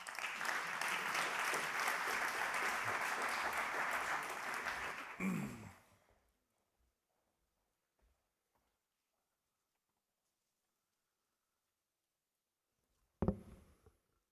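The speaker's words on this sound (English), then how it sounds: "a big applause for Christian" Audience applause at the EARTO Annual Conference for speaker Christian: a dense, steady round of clapping for about five seconds that fades out, then near silence and a brief sharp noise close by near the end.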